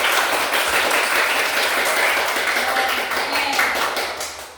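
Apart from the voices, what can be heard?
class clapping hands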